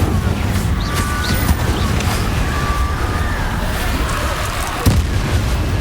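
Spells and blasts fly in a Hogwarts Legacy battle on PS4, with loud, dense explosive booms and bursts rumbling almost without pause, under shouted spell incantations.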